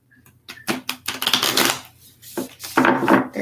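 Tarot cards being shuffled in a series of quick, crisp riffling and slapping bursts, close and fairly loud, with short pauses between shuffles.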